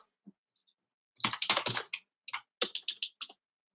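Quick bursts of keystrokes on a computer keyboard while coding a PHP test, a few isolated clicks followed by two dense clusters of rapid, crisp taps close to the microphone in an otherwise quiet room.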